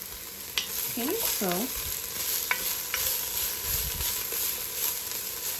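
Onion, garlic and chive hitting a hot pot for Dominican smoked pork callaloo, a sizzle with stirring scrapes and a few utensil clinks, and a voice speaking briefly at the start.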